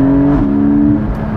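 A Porsche 718 Spyder with a manual gearbox gives a steady, close engine drone whose pitch steps up once early and then holds before easing off, loud and with no talking over it.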